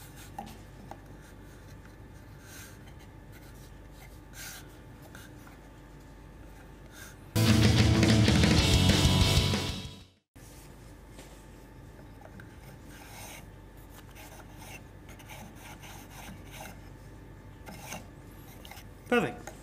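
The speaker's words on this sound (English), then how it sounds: "I would just sand a little bit off two faces of this." Sandpaper rubbed against the faces of a wooden lolly dispenser part: one loud, steady rasping stretch of about three seconds, close by, between quiet workshop stretches.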